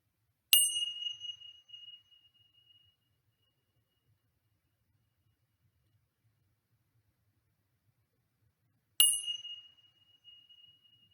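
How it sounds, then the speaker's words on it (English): Tincture bells struck twice, each a bright, loud ping that rings out and slowly fades, the two strikes several seconds apart in an otherwise silent room. "I'm now going to further cleanse with the tincture bells. So 2 loud pings"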